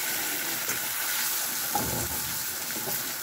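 Butter fries in a pan with a steady, close hiss and crackle of sizzling, continuous throughout with no talking.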